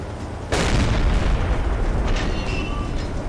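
A ship's gun shell hits the bridge in Silent Hunter 3, a sudden heavy boom that gives way to a loud, sustained rumbling roar.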